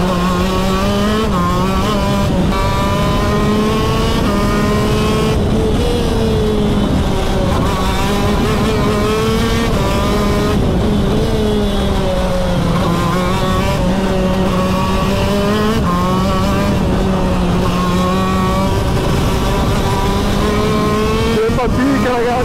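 A go-kart engine revs continuously during warm-up, loud and close, its buzzing pitch rising and falling in repeated cycles. A voice talks over it in places.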